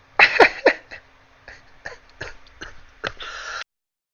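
A burst of harsh, close coughing and throat clearing, loud at first, then a few scattered smaller coughs trailing off.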